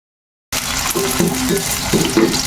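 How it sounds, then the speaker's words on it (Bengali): Chopped onion and garlic fry in a pan with a sudden loud, dense sizzle that starts after a brief silence, plus scraping stirring sounds throughout. "রসুনগুলো দিয়ে দুই তিন মিনিট ভেজে নিবে"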